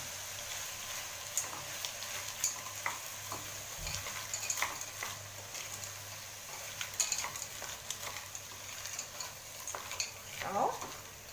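Green peas and carrots are stirred into sautéed onions in a pan, giving a low continuous sizzle broken by scraping spoon strokes and occasional clinks against the pan, heard close with no talk.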